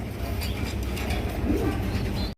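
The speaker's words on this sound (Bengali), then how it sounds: "একদম বিশাল সাইজের এক জোড়া ব্ল্যাক কালারের রুমান গাল কবুতর" A large pair of black Roman pigeons coo softly in a steady, muffled run under a dense bed of low rumbling background noise.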